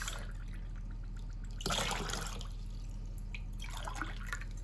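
Water splashes into a pot for baklava syrup with sugar in two short bursts, each a bright gushing pour separated by quiet kitchen hum.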